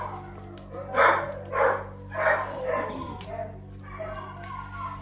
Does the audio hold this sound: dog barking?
yes